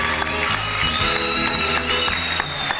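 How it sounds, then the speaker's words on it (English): Ballroom audience in Boston rising to a standing ovation after a foxtrot, a dense steady roar of clapping and crowd noise with music playing underneath throughout. "They're getting to their feet here. Oh, my. A standing ovation here in Boston."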